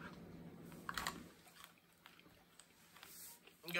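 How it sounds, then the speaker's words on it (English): Someone chews a Death Nut, a nut coated in super-hot pepper and capsaicin, with close, soft crunching and biting bursts early on, then quieter intermittent mouth sounds, faint overall. "Gotta chew them for 15 seconds"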